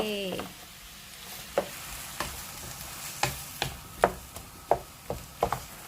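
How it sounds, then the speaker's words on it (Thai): Tomatoes stir-fry in a pan for chicken majboos, a soft continuous sizzle punctuated by about a dozen sharp spatula knocks and scrapes against the pan, close by and without speech. "อันนี้เราจะผัดให้มะเขือเทศเขาเละๆหน่อยเนาะ"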